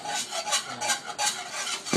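A sauce for a Father's Day dinner is whisked steadily by hand, making close, rhythmic scraping swishes against the bowl with no voices.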